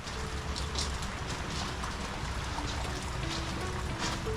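Steady rain falls on the water of an outdoor animal enclosure where a creature is swimming, a constant soft hiss of drops with faint low rumbling underneath and no voices.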